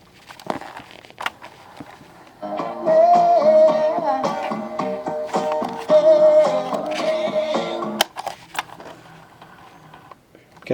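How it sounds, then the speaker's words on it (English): A Jensen SCR-75 portable cassette player's tape mechanism whirs and clicks close up while fast forwarding, with a steady tonal whine in the middle and sharp mechanical clicks at the start and end. "this is a very noisy mechanism right now as it's currently fast forwarding the tape"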